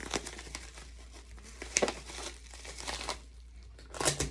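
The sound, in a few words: tape being applied to package for eBay shipping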